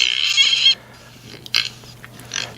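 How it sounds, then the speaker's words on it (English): Kunekune pet pigs make a shrill squeal that stops abruptly, followed by a few short, fainter squeaks and grunts. "Now you'll hear they're very noisy, these pigs."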